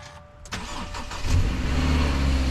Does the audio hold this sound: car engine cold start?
yes